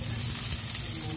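Onions frying in a pan until brown, with a steady close sizzle running unbroken underneath throughout the short stretch, and no talking.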